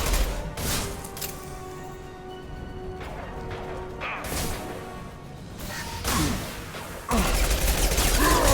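Gunfire in Mass Effect 2 comes as loud bursts and volleys of shots with whooshes and impacts, rising and falling across the fight over a constant game background.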